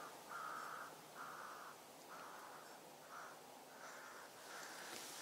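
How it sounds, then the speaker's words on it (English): A series of hoarse caws from crows repeats at a steady pace, fairly distant, over a soft hiss of outdoor background. "Also hear some crows."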